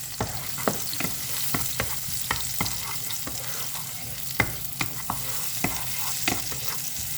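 Squid and shrimp stir-fried in a pan with holy basil, with a steady sizzle broken by sharp spatula scrapes and clanks on the pan at irregular intervals.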